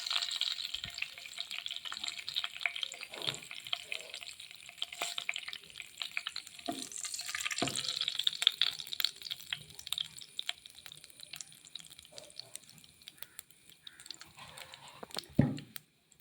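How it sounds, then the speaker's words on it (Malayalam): Mustard seeds crackle and pop in hot coconut oil in a pan, a faint, scattered sizzle with small sharp bursts and occasional louder clicks and stirring knocks, no one speaking. "കടുക് പൊട്ടി വന്നിട്ടുണ്ട്."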